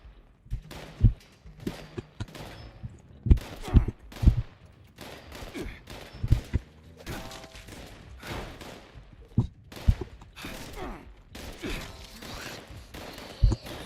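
Gunfire in the video game Fallout 76, sharp bursts and single shots arriving in irregular clusters, some loud and close, with quieter thumps and movement between them.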